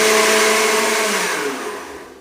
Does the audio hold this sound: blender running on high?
yes